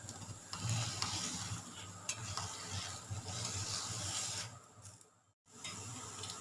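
Steady scraping and stirring as sugar goes into a pot of boiling water, continuous and close, with a brief drop to near silence near the end.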